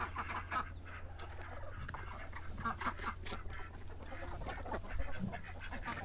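Chickens cluck and murmur steadily in a busy barnyard, with a low constant hum underneath and scattered soft calls throughout.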